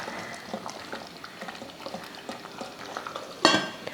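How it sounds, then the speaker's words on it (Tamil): Mutton kuska biryani water simmering in a one-pot on the stove, a steady soft bubbling with faint scattered pops and a brief louder clatter near the end, no voices. "நல்லா கொதிக்க ஆரம்பிச்சிருச்சு பாருங்கள்."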